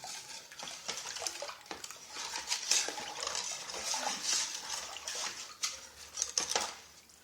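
A spoon stirs liquid Lao-style Bánh Cuốn batter in a pot, making soft wet sloshing with repeated scrapes and clinks against the metal, close and fairly quiet.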